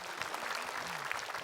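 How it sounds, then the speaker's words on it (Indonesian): A studio audience at a religious talk show breaks into applause, a brief, fairly quiet burst of dense clapping. "Tepuk tangan dulu."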